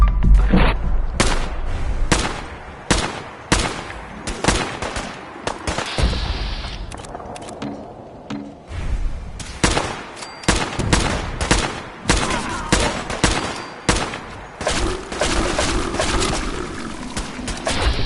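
Battle gunfire in Fallout 4 at Bar Harbor: repeated loud shots and bursts crack in an uneven, rapid rhythm across the whole stretch, with occasional brief quieter gaps.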